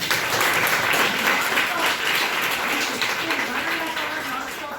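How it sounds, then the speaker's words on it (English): Sustained audience applause, a dense steady wash of many hands clapping at a fairly loud level throughout, tapering only slightly at the end. "So give her a big clap."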